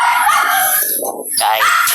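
A dog barks and howls loudly nearby in a couple of drawn-out, strained calls.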